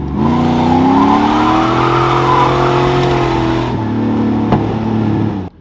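An LS-swapped G-body car revving hard while doing donuts, its loud, close engine note holding high and sustained with rising whine, then dropping briefly and revving again before cutting off.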